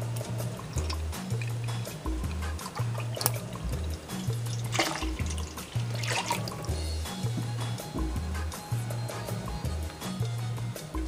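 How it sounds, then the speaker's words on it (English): Whole milk is poured into a mixture in a steady, gurgling stream, close by, with a low rhythmic hum repeating underneath throughout. "And now 1 cup of whole milk."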